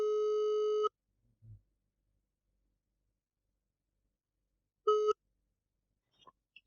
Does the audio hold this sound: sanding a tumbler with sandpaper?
no